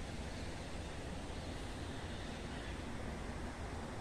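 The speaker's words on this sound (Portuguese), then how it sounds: "devido o barulho da cachoeira aqui, né? Da enxurrada" Rushing floodwater pouring like a waterfall into a storm drain, a loud, dense, continuous roar of torrential runoff close by, steady and unbroken from start to finish.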